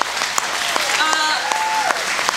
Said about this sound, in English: let's give a big applause to Hasaan Rasheed's first Comic-Con